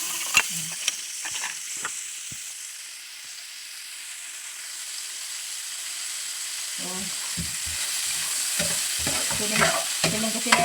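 Pork meat sautéing in a pan, with a steady frying sizzle and hiss and intermittent stirring scrapes, while people talk nearby in the second half.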